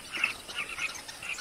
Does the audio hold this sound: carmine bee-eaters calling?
yes